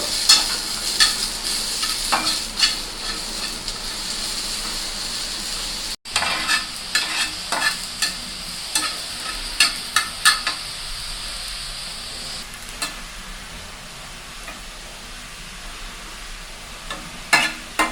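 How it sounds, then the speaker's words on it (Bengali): Onions and garlic frying in a pan for a mashed pointed-gourd-peel dish, a steady broadband sizzle with repeated sharp scraping stir clicks, close and fairly loud, briefly cut near the six-second mark. "এখন ভালোভাবে পেঁয়াজ রসুনগুলো ভেজে নিব"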